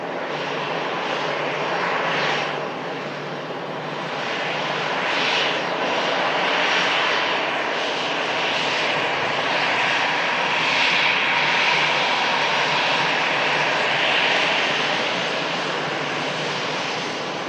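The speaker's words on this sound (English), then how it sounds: "lined up ready to go is the Virgin Atlantic flight out to Las Vegas" Jet engines of a Virgin Atlantic airliner lined up for takeoff on a Las Vegas flight produce a sustained broad roar with slow surges in intensity, filling the whole stretch without speech.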